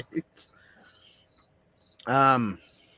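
A cricket chirps in a room with a loud, sustained raspy trill near the end, after a few brief quieter chirps and clicks earlier.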